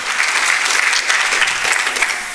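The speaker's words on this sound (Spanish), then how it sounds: "Ahora denle un fuerte aplauso al Señor" A church congregation breaks into steady, dense applause during a sermon, a continuous wash of many hands clapping close together with no talk over it.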